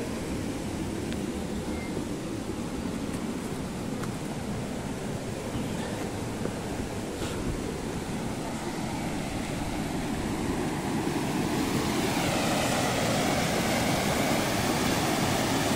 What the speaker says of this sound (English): And we're just above the waterfall.